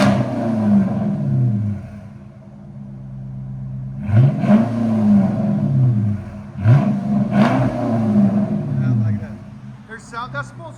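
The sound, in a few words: Chrysler 300 C 5.7L V8 revving with NTR race mufflers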